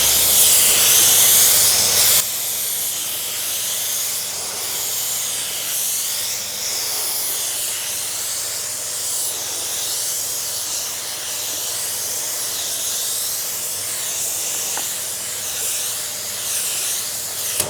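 A paint spray gun lays down a light dust coat, producing a loud, steady, close hiss that runs without a break. It is slightly stronger for the first two seconds before settling to an even level.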